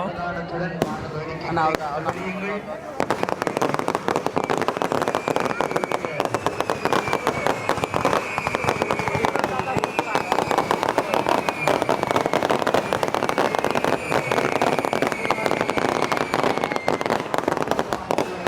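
Fireworks burst at a public display in Jaffna, a dense, continuous barrage of sharp cracks and pops after brief voices at the start.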